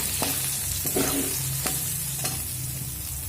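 Soybean chunks fry in hot oil with a steady, close sizzle, broken by a few sharp clinks and scrapes of stirring in the pan.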